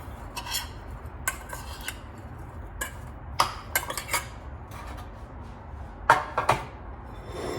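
Leftovers being stirred with oil in a bowl, giving a run of scattered clinks and scrapes of utensil against dish, some sharp and close, over a low steady background hum.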